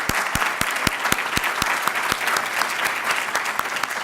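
A lecture audience gives a round of applause, dense and fairly loud clapping close by with a few sharp individual claps standing out in an uneven rhythm, continuing steadily throughout without speech.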